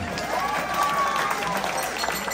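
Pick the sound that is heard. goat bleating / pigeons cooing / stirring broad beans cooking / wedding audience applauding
wedding audience applauding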